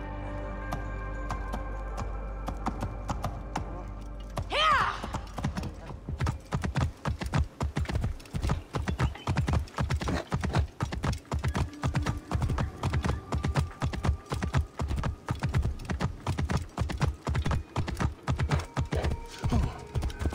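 Horse hooves clip-clop at a steady walking rhythm on a hard surface in the video game Assassin's Creed Origins, close and continuous after a short sweeping sound, with no talk over them.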